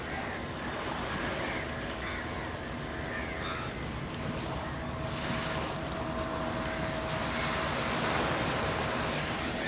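Motorized fishing boat on the seaside at Kochi, heard as a steady broadband engine and water wash with wind and surf, continuous and fairly loud throughout, with no talk.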